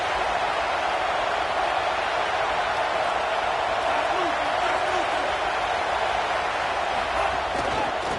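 A stadium crowd at a college football game between Alabama and Texas keeps up a steady, loud roar on a first-and-goal play, with no break in the noise and voices underneath.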